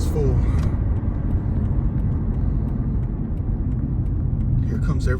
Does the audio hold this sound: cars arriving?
yes